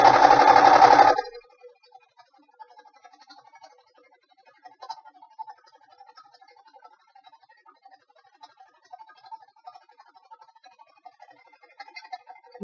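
A sewing machine zigzag-stitches around an appliqué on an envelope cushion in one loud, close burst of about a second, then falls to near silence with faint scattered clicks.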